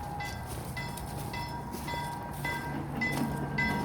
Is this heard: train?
yes